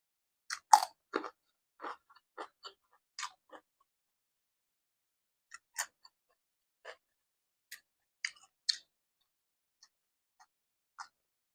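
Close chewing while eating bamboo shoot curry with sticky rice, with sparse wet bites and crunches at irregular intervals against near silence.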